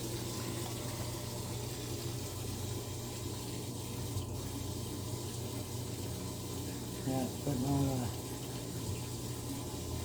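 A washing machine fills with water in an appliance store, a steady low rushing flow running throughout beneath a hum, while people talk briefly near the end.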